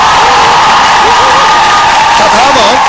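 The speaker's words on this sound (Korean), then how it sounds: "이렇게 다섯 팀에게 다시 한번 뜨거운 박수 부탁드리겠습니다" An indoor crowd at a team event applauds and cheers loudly and steadily throughout, while an amplified announcer's voice speaks over the clapping.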